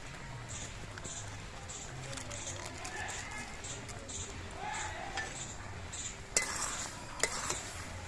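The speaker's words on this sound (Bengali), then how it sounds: "মশলাগুলো ভালো করে মিশিয়ে দিলাম" Maggi noodles being mixed with three packets of Maggi masala in water, a steady near patter of stirring with faint clinks of utensil against the pan and a couple of sharper knocks near the end.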